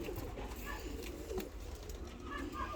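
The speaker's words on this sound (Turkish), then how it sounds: "kaliteli güzel kuşlar" Pigeons coo softly over a steady, noisy background, with a voice faintly present, in Turkey.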